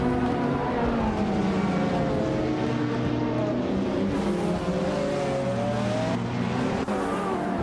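Racing-game cars, among them a 2003 Ferrari 360 CS, roar off the starting line together, engines loud and rising in pitch through the gears, with a faint tire squeal and no talk.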